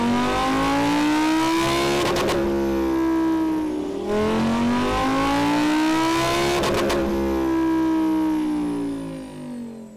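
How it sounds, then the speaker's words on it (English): A Lamborghini Huracan STO with a 5.2-litre V10 revs hard on a dyno, two long rising pulls to a screaming peak, each cut sharply, loud and close with no talk. "Right, Mark, we've had the STO on the dyno"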